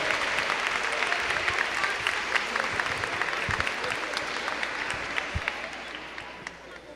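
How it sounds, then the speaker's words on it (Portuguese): A church congregation at a Mass for Saints Peter and Paul claps loudly for young people, a broad sustained wash of applause with a few sharper claps, tapering gradually toward the end. "Uma salva de palmas bem forte para você,"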